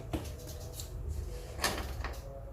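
A door on a snake enclosure holding a large viper opens with a couple of short knocks and scrapes over a steady background hum.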